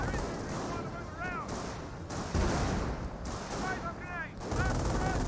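Gunfire and artillery in a Company of Heroes 1 match, a rough continuous battle din with repeated bursts and blasts; voices come and go over the fighting.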